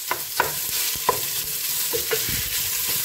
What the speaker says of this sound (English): I'm just going to brown it up for about a minute.